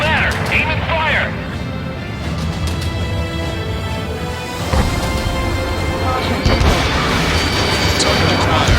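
Aircraft weapons fire in Ace Combat 7: Skies Unknown during a launch through a tunnel, heard as rapid bursts of booming gunfire and impacts over a steady engine roar, loud and dense, with radio chatter voices underneath.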